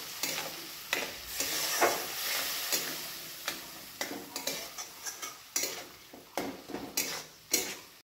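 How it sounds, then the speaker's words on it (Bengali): Spices frying in a pan with a little water and melting tomatoes, stirred repeatedly: a steady run of close spoon scrapes and clinks over a continuous sizzle, no voices. "এগুলোকে নাড়াতে হবে।"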